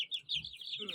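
Brahma chicks and chickens in a coop, a high chirping peep repeated rapidly over a soft low cluck, close and faint within a single second.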